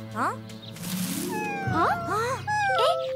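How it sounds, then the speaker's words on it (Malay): A cat meows several times in a rural village setting, short rising and falling cries near the listener, mixed with children's voices talking over and between the calls. "Ibu, ada kucing."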